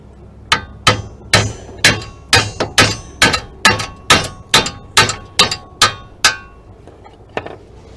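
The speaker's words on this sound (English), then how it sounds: "So instead of using brute strength, I just tap it with the hammer" A hammer taps a steel rear spindle on a 1990-1993 Honda Accord, about fourteen sharp metallic strikes in a steady, even rhythm, loud and close with ringing decay, then a couple of lighter taps at the end.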